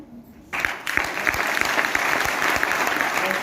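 Seminar audience breaks into applause after a brief quiet moment, a sudden full burst of many hands clapping close and steady, continuing strongly to the end.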